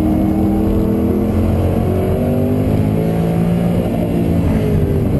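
Noble M600 supercar driven hard at the Nürburgring: a loud, steady engine roar under load, dense and continuous, heard from inside or close by, with no voices.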